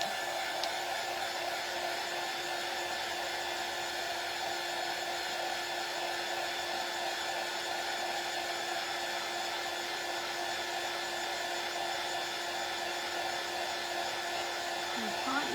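A hair dryer blows steadily and continuously to dry a freshly painted vintage shutter, a constant mid-level whir with faint talk underneath.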